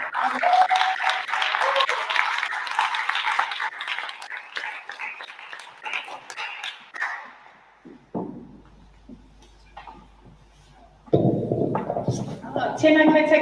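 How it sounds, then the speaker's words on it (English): Applause from an audience greeting a speaker at an Ōtara gaming event, dense clapping for several seconds that thins out, then fades into quiet before voices resume. "Can everyone please give a big nice round of applause?"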